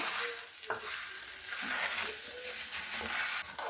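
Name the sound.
orzo being stirred and toasted in oil in a skillet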